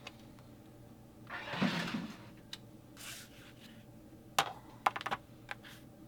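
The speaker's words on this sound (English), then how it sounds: "I'm going to grab my decorative trimmer." A decorative trimmer is run through mat board, giving a brief, scraping cutting stroke followed by a few sharp clicks and taps in a quiet room.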